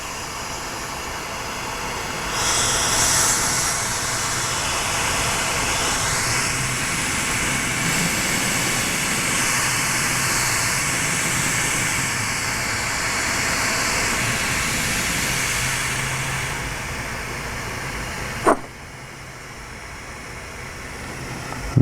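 A lampworking torch roars steadily while glass is melted for a heart pendant, a constant broad hissing rush at close range that swells slightly, then cuts to a quieter hiss after a sharp click near the end.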